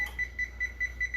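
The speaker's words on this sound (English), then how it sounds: "I'm going to go ahead and set a timer for" A kitchen timer sounds a steady series of short, bright electronic beeps spaced evenly, close and clear over a low kitchen hum.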